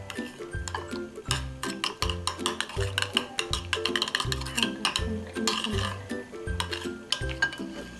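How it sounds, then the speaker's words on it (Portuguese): Clear slime being stirred with clear detergent in a bowl, the utensil clinking and scraping against the container in a steady repeated rhythm, with background music playing throughout. "Aí agora a gente vai colocar um pouquinho de detergente clear também. Assim. E vamos mexer um pouco."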